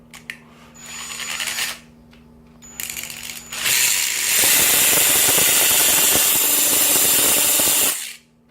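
An 18-volt cordless drill on its highest gear whirs in two short bursts, then runs loud and steady for several seconds before stopping abruptly; close and harsh.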